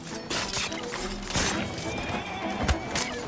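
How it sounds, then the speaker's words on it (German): Horses in the video game Assassin's Creed Syndicate neigh and whinny among clattering hooves and scattered bumps, fairly loud and close, with no talking. "Lass die Pferde doch mal in Ruhe."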